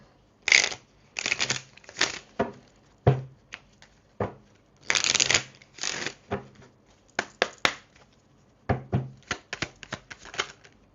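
Tarot cards being shuffled in repeated bursts of riffling and slapping, close and fairly loud, with short pauses between each handful and no talking.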